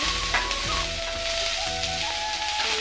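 Paneer frying in oil in a wok gives a loud, steady sizzle with occasional crackles and a few faint utensil clinks. No voices are heard.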